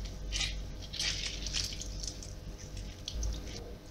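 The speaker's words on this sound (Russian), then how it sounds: "Вот апельсин, который у нас остался. Мы из него выжимаем сок" Juice is squeezed by hand from two orange halves, giving close, wet squishing and dripping sounds in uneven bursts, with no voices.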